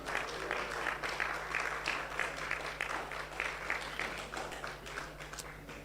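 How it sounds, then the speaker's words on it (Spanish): A church congregation applauds together, a continuous rippling clapping of many hands at moderate distance, fairly even in level throughout. "Si quiere darle aplausos al Señor"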